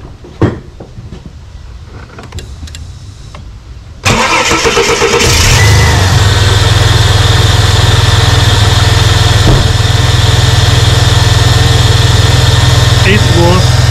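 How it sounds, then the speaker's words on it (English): A car engine cranks and catches after a few seconds of quiet background noise, then settles into a loud, steady idle that continues to the end. "I'm gonna start it up and see how the car going now"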